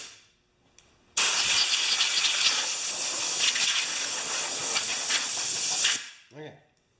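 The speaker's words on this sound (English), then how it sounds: "I'm just going to stuff this rag in here for a minute and blow off some of this dirt" Compressed air blasts dirt off a Honda engine with a rag stuffed into an opening. A loud, steady hiss runs for about five seconds, then cuts off.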